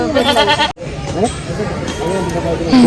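Goats bleat in wavering cries close by at a temple, with people talking in the background.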